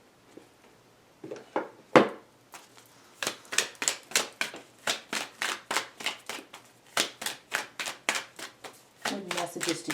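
Goddesses, Gods, and Guardians oracle cards being shuffled by hand, a long run of quick rhythmic riffling bursts, close and crisp, with a brief stretch of talk near the end.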